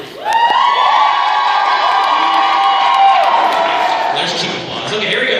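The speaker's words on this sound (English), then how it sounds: "There's cheap applause." A large audience at a Sacramento sales event cheers loudly, with sustained shouts and whoops over scattered clapping that holds steady for several seconds before easing slightly toward the end.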